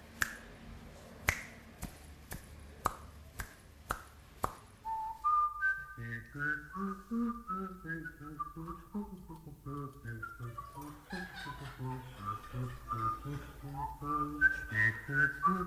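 A run of sharp finger snaps opens, then a person whistles a melodic tune with sliding notes, sometimes layered with a hummed second voice.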